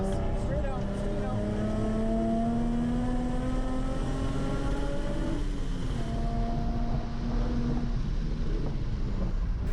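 A Nissan 350Z accelerates hard on a race track with a steady, rising engine drone through the gears, a brief shift dip midway, and constant wind noise over the onboard recording.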